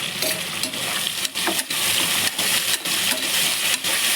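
Broad beans and pumpkin sauté in a pan, giving a bright, constant sizzle with quick scraping stirs and brief dips as the vegetables are tossed.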